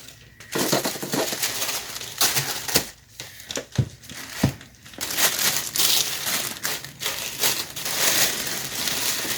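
Continuous close crinkling and crunching of packing paper being balled up, with a few sharp crackles and brief pauses.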